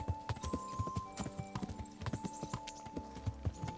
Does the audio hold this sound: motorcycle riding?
no